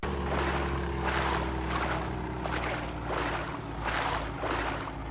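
A boat churns across open water in the video game DayZ, a steady engine drone under rhythmic surges of splashing and hull slap, loud and close throughout with no voices.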